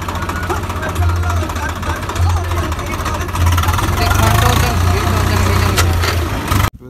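Tractor engine with a rotavator running steadily on a farm field, a constant low rumble close by that holds throughout with slight swells and stops abruptly at the end.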